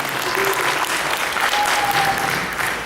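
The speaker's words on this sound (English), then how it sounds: "Can you give a round of applause for them," An audience at a Family Guy-themed event claps for a real-life Lois and Peter Griffin, giving steady, moderately loud applause with some crowd voices faintly underneath.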